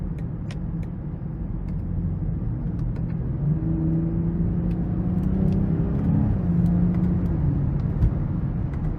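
Steady low engine drone and road rumble from a 2021 BMW X5 xDrive40i with its 3.0-litre turbocharged engine in sport mode, the pitch rising and easing as it accelerates and shifts, heard from inside the cabin.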